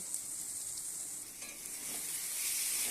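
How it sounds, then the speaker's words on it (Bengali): Ground coriander, cumin, garam masala, Kashmiri red chilli and turmeric go into frying onion and garlic, with a steady, fairly quiet sizzle and soft stirring throughout. "এই পেঁয়াজ রসুন ভাজার মধ্যে এখন দিয়ে দেব"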